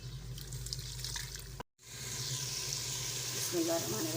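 Steady sizzling of tomato and onion gravy frying in a pan for chicken karahi, continuous and close, with a brief cut partway through and faint clinks near the end.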